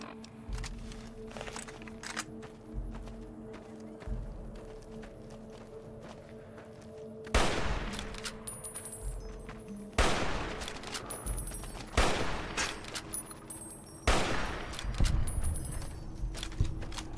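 Gunshots in Fallout: New Vegas: several loud, sharp blasts ring out a couple of seconds apart over a background of lighter clicks, steps and small clatter, growing louder and more frequent in the second half.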